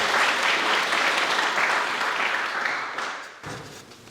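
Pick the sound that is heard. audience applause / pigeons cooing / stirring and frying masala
audience applause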